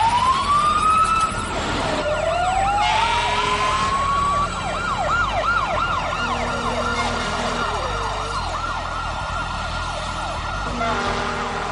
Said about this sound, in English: From across the city, 11 fire engines race downtown.